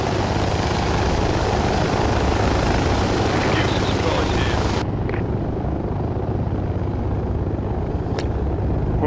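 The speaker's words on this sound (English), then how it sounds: "Oh, which chopper are we in?" Helicopter rotor and engine from inside a chopper in the military shooter Project Reality, a loud steady broadband drone that cuts down to a quieter rumble midway, with a faint voice beneath.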